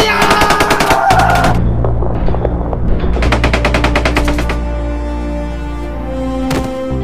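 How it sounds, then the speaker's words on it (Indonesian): Rapid automatic gunfire from a brutal shooting scene in a film, loud rattling bursts of closely spaced shots with a short pause and a final ringing tail, no voices. "Sersan Budiono mengarahkan tembakan brutal ke arah Kang Cukur"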